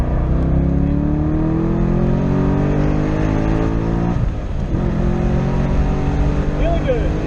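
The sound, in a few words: Corvette C6 Z06 LS7 engine accelerating on a race track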